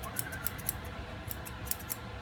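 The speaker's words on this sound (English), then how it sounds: "No, the scissors are doing it." Scissors snip through the fur of a long coat Chihuahua during grooming, giving a series of quick, faint, crisp cuts at an uneven rhythm over a quiet room background.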